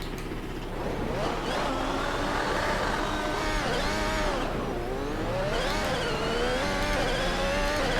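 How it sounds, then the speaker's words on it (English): A V6 turbo hybrid Formula 1 car accelerates hard at Goodwood, its engine note climbing and dropping through gear changes in a loud, continuous high-pitched whine with rising and falling sweeps. "these V6 turbo hybrid cars are blisteringly quick"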